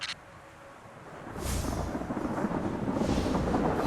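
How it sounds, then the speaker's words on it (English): Thunderstorm in the video game Destiny Rising, centered around a building: a quiet lull breaks into a loud, sustained rumbling roll of thunder with rain-like hiss that keeps building to the end, no voices. "The storm must be centered around this building."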